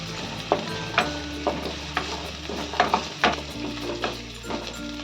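Vegetables fry in a pan for semolina upma, with steady sizzling broken by repeated spatula stirs and scrapes at an uneven rhythm, close and moderately loud, no talk.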